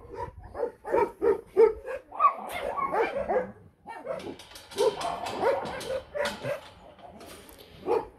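Several dogs at an animal shelter bark and yip in a burst of overlapping calls, fairly close, with some whimpering and a voice mixed in.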